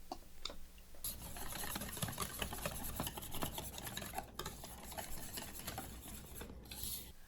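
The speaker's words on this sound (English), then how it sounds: "We're going to whisk this together." Milk being whisked into cornbread mix in a bowl, a faint, continuous rapid scraping and swishing that runs steadily throughout with no talking.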